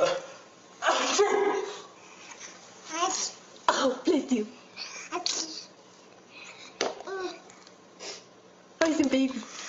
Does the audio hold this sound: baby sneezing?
yes